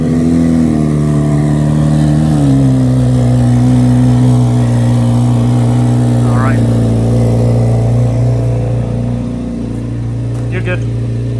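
A Honda S2000 fitted with bare seat bases drives along, its engine giving a loud, steady droning hum that dips in pitch once as it shifts and then holds, with a person talking over it.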